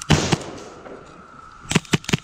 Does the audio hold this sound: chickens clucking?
no